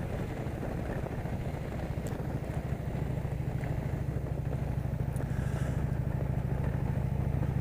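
A motorcycle ridden on a mild 65-degree day in central Maryland, its engine droning steadily and close with a constant low rumble and wind rush throughout, no talking.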